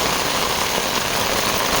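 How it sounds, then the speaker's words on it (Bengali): Steady rain falls in Mymensingh, a continuous even hiss of drops spread across the whole moment with no breaks, fairly loud and close, with no voices over it. "তাই বৃষ্টির মধ্যে বের হলাম"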